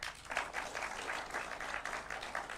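An audience applauds at a university charter award ceremony, a steady patter of many hands clapping at moderate distance for a couple of seconds.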